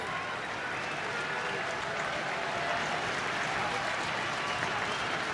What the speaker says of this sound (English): Crowd on their feet here at Wrigley in a 6-6 game in the top of the 9th.